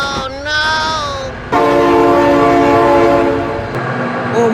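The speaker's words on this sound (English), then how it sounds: "Oh my god, train!" A train sounds its horn in long, loud harmonic blasts, first a short call and then a sustained, stronger one, over rumbling rail noise as it passes close by, ending in a lower tone with the roar.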